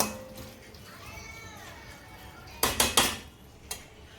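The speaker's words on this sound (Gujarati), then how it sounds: "લીલા કાંદાના પાન ઉમેરી લઈશું બધી વસ્તુ બરાબર મિક્સ કરી લઈશું" Spoon scraping and clattering against a metal pan while veg Manchurian ingredients are mixed with spring onion leaves, a few sharp clinks near the end over quiet background.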